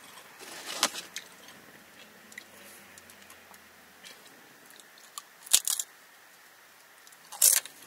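Tostitos tortilla chips crunch loudly and close up in a few sharp bursts of biting and chewing, separated by quieter stretches.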